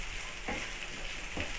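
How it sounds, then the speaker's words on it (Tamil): Beans and capsicum sautéing in a pan for egg noodles, a steady close sizzle with two brief scraping stirs about a second apart. "காயில் வந்து ஒரு 2 நிமிஷம் நல்லா வதக்கிக்குங்க"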